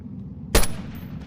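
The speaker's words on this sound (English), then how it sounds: "Now that was a regular rifle round." A single rifle round fires in BONELAB, a sharp loud report with a brief decaying tail, standing alone over a low steady background hum.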